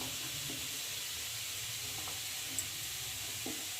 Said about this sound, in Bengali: তাহলে ওইদিকে ভাজা হোক, আর ওইদিকে দুধটা ফুটছে